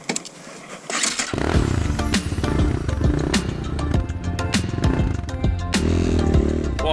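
A Thumpstar TSF 250 X3 dirt bike being ridden, the engine kicking in loudly after a quiet moment, then revving and shifting with rough, rising and falling throttle bursts close by.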